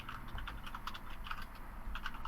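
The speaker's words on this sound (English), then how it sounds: "Like you should mute yourself if you're typing and not talking." Keyboard typing from unmuted participants in a live Discord voice chat, a steady run of quick clicky keystrokes throughout, fairly faint and slightly distant, with no talking.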